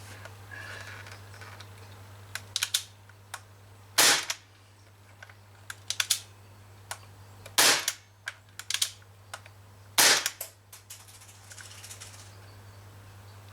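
An Umarex HK MP5K CO2 airsoft gun fires at an empty beer can about six meters away, giving sharp isolated cracks with a few louder shots and scattered lighter clicks and taps in between, over a steady low hum.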